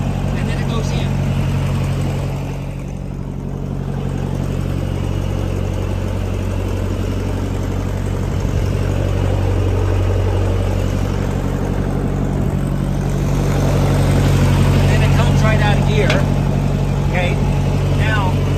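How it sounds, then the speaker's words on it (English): A 1956 Massey Ferguson MH50 tractor idles with a steady low engine drone while its PTO grinds with the clutch pushed in, a continuous rough mechanical rumble with a voice talking over it. "Push the clutch in, it's still grinding"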